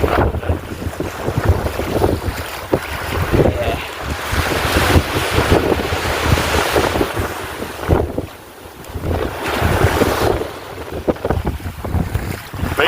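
Waves washing onto the shore at Fremantle beach in Australia, a steady broadband roar of surf mixed with strong wind buffeting the microphone, continuous and fairly loud with brief lulls.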